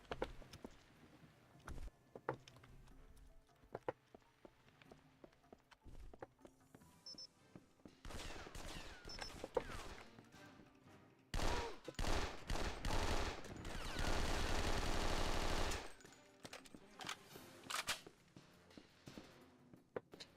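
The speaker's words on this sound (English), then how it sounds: "That is a very long flashbang effect." A flashbang grenade effect in the PC game James Bond 007: Nightfire rings out as a long, loud burst of bright noise lasting several seconds, surrounded by scattered gunfire-like bangs and footsteps.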